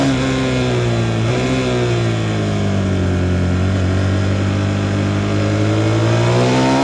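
A motorcycle, either a Yamaha MT-07 or a KTM 390 Duke, pulls hard on a mountain road, its engine note climbing steadily and loud and close throughout, with no talking.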